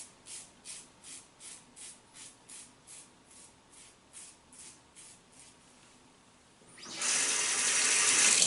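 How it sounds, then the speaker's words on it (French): Tap water splashing as a face is rinsed after a traditional shave, rhythmic soft splashes repeating about twice a second, then a loud steady rush of running water from the faucet at the end. "faut vraiment que je me rince le visage comme il faut"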